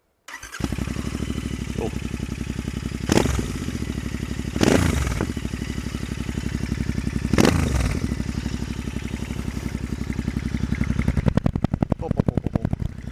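A Royal Enfield Interceptor 650 motorcycle with Lextech end cans starts up and settles into a loud, steady, thumping idle, with several sharp throttle blips along the way.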